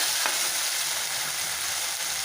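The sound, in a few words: stirring ginger garlic paste frying in a pan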